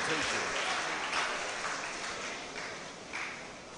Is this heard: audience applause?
yes